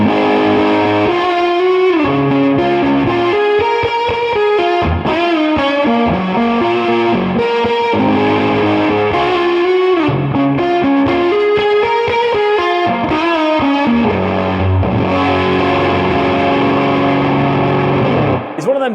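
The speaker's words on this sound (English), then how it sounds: "that was a fuzz pedal, compressor, and a vibrato from the Kemper going into the lead gain channel" A semi-hollow electric guitar plays a loud, continuous riff through fuzz, compression and vibrato into a high-gain lead amp channel on a Kemper, heavily distorted with a wobbling modulation.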